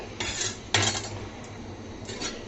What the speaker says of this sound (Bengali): দেখতে পারতেছো কতটা কুচি করে আমি কাটতেছি